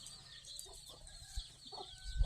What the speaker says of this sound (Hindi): तो ये देखिए हमारी मुर्गी के छोटे छोटे बच्चे।